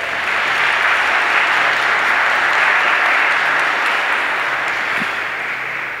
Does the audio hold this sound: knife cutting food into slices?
no